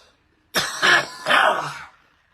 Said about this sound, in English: that's like 6 minutes of solid coughing